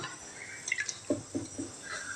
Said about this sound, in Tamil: இந்த பருப்பு முழுகிற அளவுக்கு தண்ணி விட்டுக்கலாங்க